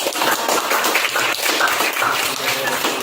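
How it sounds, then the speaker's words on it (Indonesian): A classroom of students clapping together for a group presentation, a dense and loud wash of clapping that holds steady throughout without a break. "tepuk tangan ya"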